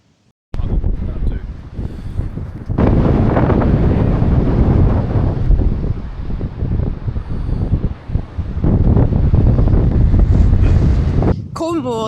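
Strong coastal wind at Chapel Porth, Cornwall buffets the microphone in loud, roaring gusts that barely let up over about twelve seconds, with a voice briefly audible beneath the rumble.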